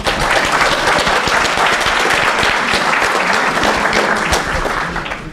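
A conference audience at a hacker security talk breaks into dense, sustained applause that fills the room at a steady level, then begins to taper toward the end.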